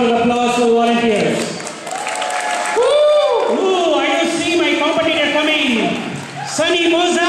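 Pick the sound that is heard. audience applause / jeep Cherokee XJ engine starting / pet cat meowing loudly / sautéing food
audience applause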